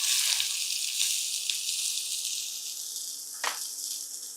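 Mustard seeds, cumin and onions sizzle steadily in a frying pan, a continuous close hiss with a few brief sharper crackles and stirring sounds, and no talking.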